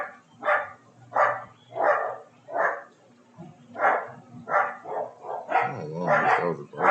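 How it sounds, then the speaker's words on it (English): Several dogs bark in repeated loud bursts at close range, roughly one bark every second, building into overlapping, excited barking toward the end. "these dogs are barking crazy right now"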